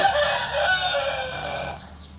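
Chickens crow and cluck close by in a short, loud burst, the crowing calls filling most of the moment before trailing off.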